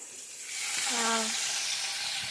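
Fish and prawn curry frying in a pan gives a steady, close sizzle and hiss that swells after a quiet start and holds evenly, with a brief tonal whine partway through.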